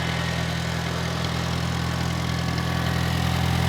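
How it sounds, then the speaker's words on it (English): A 1972 International Cub tractor with a 4-cylinder gas engine idles steadily up close, a constant low, even rumble with no speech over it. "Push button, and there you go. Y'all hear that? That's International Cub."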